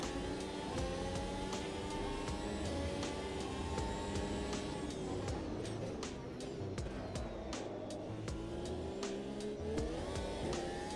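A race car engine in a sim racing game holds a high, steady whine at full throttle, with a brief dip and then a climbing pitch, while someone speaks quietly underneath.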